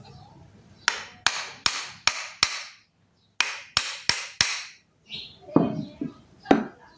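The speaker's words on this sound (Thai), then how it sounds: "ใช้ ค้อนเคาะครับ" A hammer taps a knife handle onto its blade sharply in quick, evenly spaced strikes, a run of five then four more after a pause, followed by a few softer knocks.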